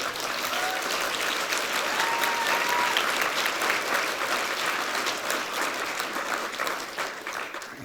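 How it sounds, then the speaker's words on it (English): Audience applause at the Arctic Circle Prize 2022 winners ceremony, a steady, sustained wash of clapping from a large hall crowd, even and moderately loud throughout. "I think that is very appropriate to have the applause for the team here"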